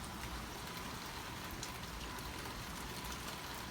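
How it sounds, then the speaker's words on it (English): Steady rain from tropical storm Isaias falls around a porch, a dense, even hiss of drops on surfaces that continues unbroken throughout, close and without any voices. "This is supposedly rain from tropical storm Isiaias."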